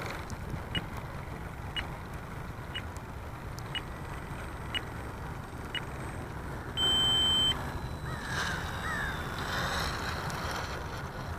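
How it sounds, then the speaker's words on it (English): Short high electronic beeps from the flight timer of an FMS SuperEZ V2 radio-controlled plane repeat at a steady rhythm over broad outdoor wind and engine hum, ending in a longer tone. "There's our timer"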